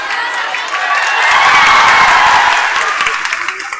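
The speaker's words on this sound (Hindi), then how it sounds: "हंस दिए, ताली बजा दिए" A large classroom audience at a coaching lecture bursts into loud clapping and cheering that swells in the middle, then tapers into scattered claps and crowd noise.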